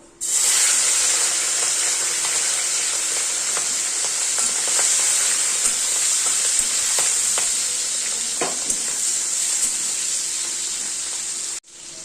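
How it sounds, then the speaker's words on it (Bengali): Prawns fry in a hot wok with a loud, steady sizzle and hiss that holds for about eleven seconds, broken by a few scraping stirs, then cuts off abruptly near the end. "প্রথমে চিংড়ি মাছটাকে ভেজে নেবো"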